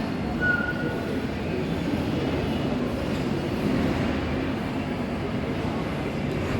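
A toy train ride rumbles along inside Lulu Mall, a steady low rolling drone with a faint squeal near the start and mall ambience around it.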